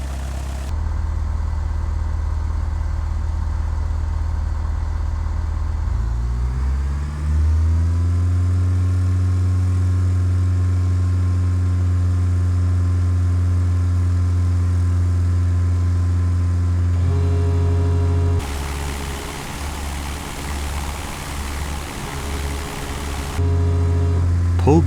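A single-engine propeller plane in Microsoft Flight Simulator X powers up for takeoff: a steady engine drone rises in pitch as the throttle opens, then holds a loud, even roar, with a burst of wind-like rushing near the end.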